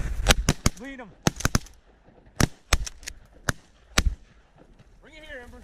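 Shotguns fire at flying ducks over a pond during a duck hunt, a rapid volley of several sharp close blasts in quick succession with hunters shouting between and after the shots.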